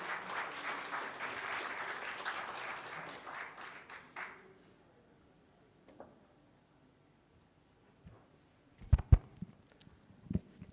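Audience applause at a vegan festival gathering in Pokhara, a dense burst of clapping that fills the first four seconds, then fades into near quiet broken by a few scattered knocks and handling sounds.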